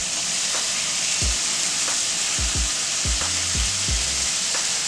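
Bacon sizzles steadily in a pan as a broad, even hiss, with a few low thuds and knocks from handling scattered through the middle. No one speaks.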